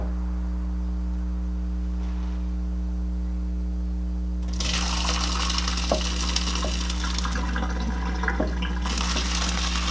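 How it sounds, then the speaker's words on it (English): Hot water from boiled vegetables being strained, first a steady low kitchen hum, then a sudden broad rush of draining water with small clinks for several seconds before it eases. "so now we're just gonna strain them"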